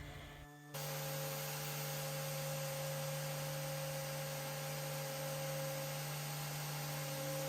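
A steady electric motor whine with a constant hum starts after a brief pause and runs on evenly: a Surf Prep electric sander running nearby, tested before sanding an antique buffet.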